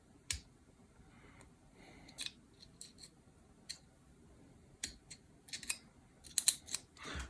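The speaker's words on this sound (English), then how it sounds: "So I kind of cut out these two stray pieces of plastic here and here." Small cutters snipping stray plastic pieces from the shell of a Dodge key fob, producing a series of sharp, irregular clicks and snaps spaced over several seconds, close and fairly quiet, with a brief cluster near the end.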